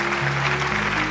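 A studio audience at the Bangladeshi family game show KONKA Sera Paribar claps in a dense, steady burst of applause over a faint electrical hum.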